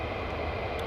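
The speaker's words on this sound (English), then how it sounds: "More fighter jets." F-15 fighter jet flying past at an airbase, a continuous broad engine roar held steady and fairly loud through the whole short moment, with no voices.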